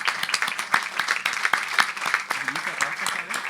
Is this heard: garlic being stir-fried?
no